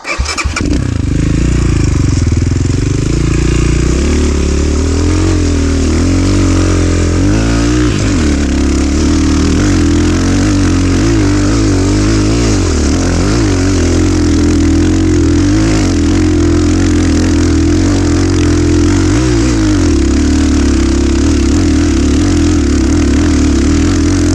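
A Chinese GEON or KOVI rotary-engine motorcycle climbs a steep hill. The engine is loud and close, a continuous roar that labors and shifts pitch as the throttle varies, sustained throughout.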